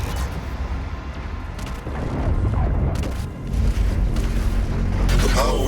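The BFG 10,000 firing in the Doom video game: deep rumbling booms and heavy mechanical roars swelling in waves, loud and dense, with a voice talking over them.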